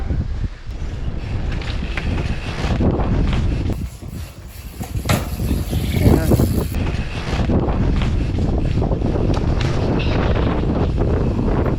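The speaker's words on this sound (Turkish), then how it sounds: "şimdi bayağı bir rüzgar esiyor. Direkt deniz oradan açık geliyor" Strong wind blowing in off the sea in Çanakkale, Turkey, buffets the microphone continuously, a loud roaring rush with gusty swells throughout and no voices.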